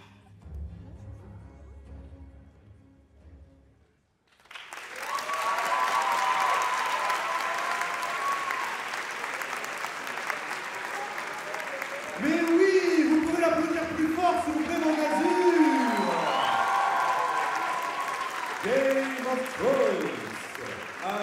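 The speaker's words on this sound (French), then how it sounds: "on peut l'applaudir aussi" Audience at a Game of Thrones cosplay contest breaks into sustained applause after a brief quiet moment, a full clapping crowd with a few cheers, while a voice talks over it partway through.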